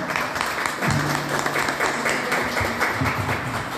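An audience at a history students' symposium breaks into loud, dense applause, many hands clapping together in a steady wash that holds for several seconds.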